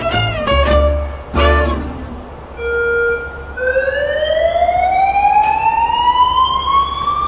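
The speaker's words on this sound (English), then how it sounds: "The alarm was incredibly loud" A loud alarm wails at night, rising in pitch and sustaining over a constant background rumble after a few short thumps and knocks at the start.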